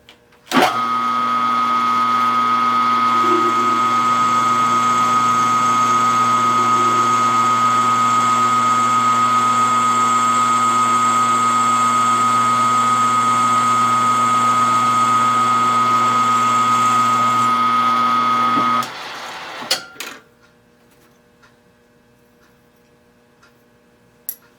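Small Stirling engine on a model helicopter running steadily for about twenty seconds with a loud, even mechanical hum and tick, then winding down and stopping, followed by a few faint clicks.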